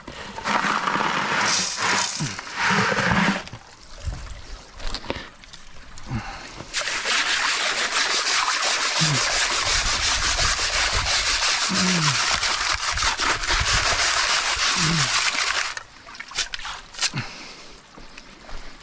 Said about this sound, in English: Let's wash it. Get rid of the sand.